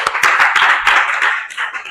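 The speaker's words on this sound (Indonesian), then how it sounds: "terima kasih tepuk tangan buat kelas 10 1" A class of tenth-grade students applauds in a classroom, with dense, steady clapping from many hands close by for the full stretch, no talk over it.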